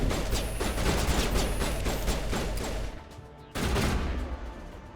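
Dense bursts of rapid gunfire and crashing impacts from a Mass Effect 1 firefight, loud and continuous, briefly dropping away before another volley erupts.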